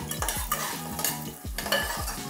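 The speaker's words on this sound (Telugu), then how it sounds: "సో మనం ఇప్పుడు బిర్యానీకి ఫ్రై చేసుకుంటున్నాం, నేను ఒక 4 చిల్లీస్ స్లిట్ చేసి వేసాను" Four slit green chillies fry in two spoons of hot oil in a pan for home-style mutton biryani, a close sizzle with quick repeated stirring scrapes of a spoon against the metal.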